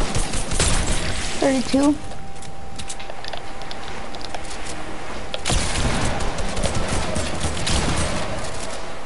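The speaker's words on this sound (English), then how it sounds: "They're shooting." Gunfire in a tournament arena duos video game, steady crackling shots throughout under continuous loud game noise, with someone speaking briefly near the start.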